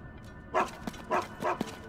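Three short, close barks from a dog in The Legend of Zelda: Tears of the Kingdom come in quick succession, each a sharp yip over a low game background.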